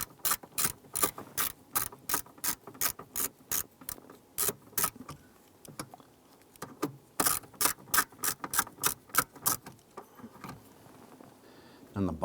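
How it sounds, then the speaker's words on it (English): A ratchet turns a 7mm socket to loosen screws on a 1995-2001 Ford Explorer dash knee panel. Crisp, rapid clicking comes in repeated runs, with short pauses between strokes. "We're using our 7mm socket here to remove the two screws"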